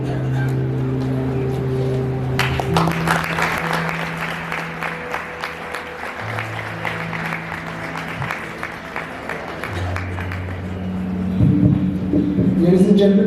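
An audience at an education forum in a school applauds with sustained clapping from several people. Musical tones sound beneath it, and a voice comes in near the end.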